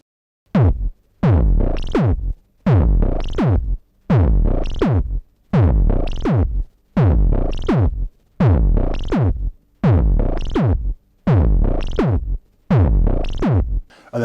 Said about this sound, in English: if we run it through the Revox, just kind of edge of breakup type thing,